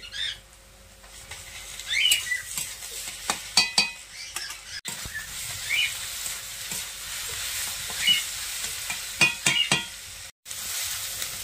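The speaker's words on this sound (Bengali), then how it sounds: "এবারে আদা রসুন বাটাটা দিয়ে দিচ্ছি।" Ginger-garlic paste frying with onions in a pan, giving a quiet continuous sizzle broken by repeated spatula scrapes and clinks against the pan, close and fairly faint, with a faint bird chirp in the background.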